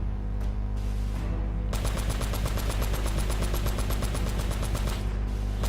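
Rapid automatic gunfire from a weapon in the video game Uncharted 2, a loud, close, steady stream of fast repeated shots after a couple of isolated single shots, with no talk.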